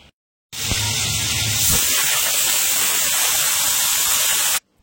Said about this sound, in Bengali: তো মাছ ভাজতে বসিয়ে দিয়েছি, ছোট ছোট মাছ